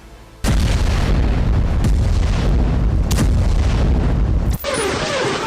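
Rocket and mortar fire with explosions in the Israel-Gaza war: a sudden loud booming barrage starts after a quiet moment and rumbles continuously with repeated heavy blasts, then cuts to a different, quieter distant rumble.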